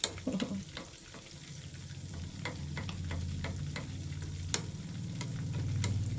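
Food fries in a pan with a soft, fairly quiet sizzle, punctuated by sharp intermittent clicks and taps over a low steady hum, without speech.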